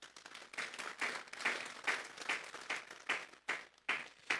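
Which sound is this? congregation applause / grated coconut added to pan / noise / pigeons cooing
congregation applause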